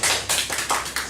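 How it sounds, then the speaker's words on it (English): Brief, scattered applause from a small audience at an academic panel session on citizenship education, a quick patter of claps lasting about a second. "Why don't we give her a round of applause?"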